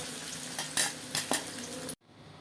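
Egg chilli frying in hot oil, a steady close sizzle with a few sharper scraping stir knocks of a utensil against the pan, then cutting off abruptly near the end to a quieter hiss.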